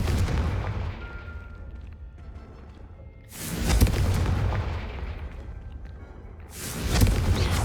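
Fire spell blasts in the video game Hogwarts Legacy erupt as three loud, booming bursts spaced a few seconds apart, each one followed by a rumbling decay.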